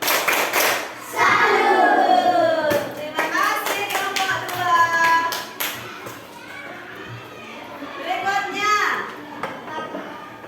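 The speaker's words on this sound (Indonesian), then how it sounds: "Tepuk salut untuk kelompok 2" A third-grade elementary class does a rhythmic clapping salute for a student group, the claps mixed with children chanting and calling out loudly throughout.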